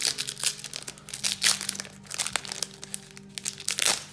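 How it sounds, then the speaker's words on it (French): A Cardfight Vanguard booster pack wrapper is torn open by hand, giving close, irregular crinkling and crunching foil plastic sounds in short bursts. "Donc, on va s'ouvrir ce premier booster."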